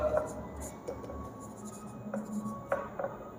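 Pen or pencil writing a math solution by hand on paper, soft scratchy strokes with brief taps, quiet and close, with low murmuring in the background.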